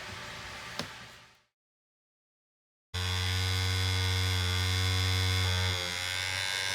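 A bearing-cleaning machine agitates bearings in degreaser, giving a steady loud electric hum with a strong low drone. A short drone cuts out into silence, then the machine restarts and runs continuously.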